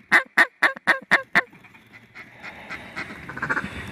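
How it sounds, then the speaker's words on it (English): A large flock of ducks, hundreds strong and seen during a hunt, calls with six loud, evenly spaced honking quacks up close, followed by a fainter, denser chatter of many birds further off. "Daggum ducks are going everywhere"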